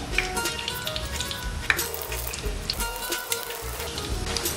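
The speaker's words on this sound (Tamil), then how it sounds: "இதில் நம்ம ரெடி பண்ணி வச்சிருக்கிற இந்த கட்லெட் பீசஸை ஒன்று ஒன்றா போட்டுடலாம்" Vegetable cutlets fry in hot oil with a moderate crackling sizzle, dotted with sharp pops and faint spatters, and no voices.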